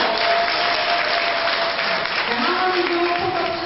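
An audience applauds at a company year-end party, a dense, even wash of clapping sustained throughout, with a voice speaking over it toward the end.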